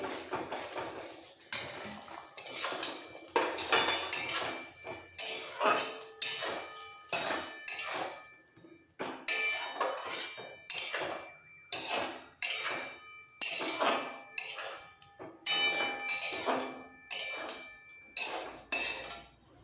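A spoon or spatula stirs fried sweet corn pakoras in a sauce in a pan for sweet corn chilli, with steady rhythmic scraping strokes against the metal repeating close and clear for about twenty seconds.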